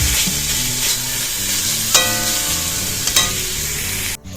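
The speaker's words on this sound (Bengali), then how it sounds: "আমার তো কড়াইয়ে তেল দিয়ে দিয়েছি, এবার রসুন আর আদাটাকে দিয়ে দেব" Garlic and ginger fry in hot oil in a wok, a steady close sizzle with stirring clinks and a couple of sharper metallic scrapes, no voices.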